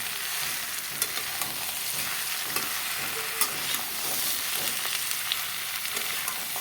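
Beans, potato, papaya and eggplant frying in oil while a spatula stirs them, a steady close sizzle broken by repeated light scraping and clinking strokes, with no talking.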